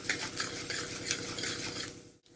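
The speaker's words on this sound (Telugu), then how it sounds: "3-4 మెంతులు, కొంచెం జీలకర్ర. ఇవన్నీ మంచిగా ఫ్రై చేయాలా." Fenugreek and cumin seeds are dry-fried in a pan for spinach onion chutney, a rhythmic scraping and stirring with a faint sizzle, close and steady for a couple of seconds.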